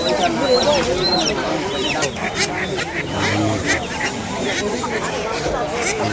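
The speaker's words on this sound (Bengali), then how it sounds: "হাঁস মুরগির হাট" Chickens and ducks clucking and squawking at a busy village poultry market, close and continuous, mixed with a babble of people talking nearby.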